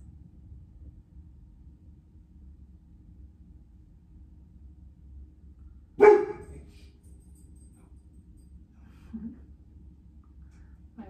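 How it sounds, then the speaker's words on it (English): A single sharp dog bark breaks a quiet, low-humming indoor space, followed a few seconds later by a faint softer sound. "Glad that was a bark during journaling and not Yin."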